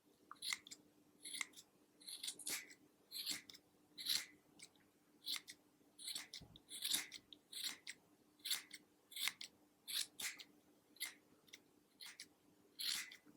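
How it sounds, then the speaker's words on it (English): Repeated crisp snips of sharp scissors trimming a yarn pom-pom, close and quiet, coming in a steady irregular rhythm with short pauses between cuts. "we need to trim it into shape. Taking your sharp scissors"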